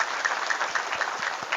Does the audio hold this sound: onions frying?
no